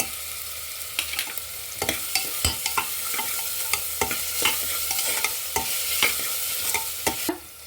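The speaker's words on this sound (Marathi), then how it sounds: "आता याच्यामध्ये आलं लसूण मिरचीची पेस्ट टाकूया" Onion fries in a pan with ginger, garlic and chili paste, a soft steady sizzle broken by repeated sharp scrapes and taps of a spoon stirring against the pan, close and without voices.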